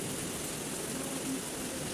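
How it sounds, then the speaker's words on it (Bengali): Heavy rain pours steadily onto the Ichamati river at Taki, a dense, continuous hiss of close, loud rainfall with no thunder and no voices. "শুধুই কেবল বৃষ্টির আওয়াজ"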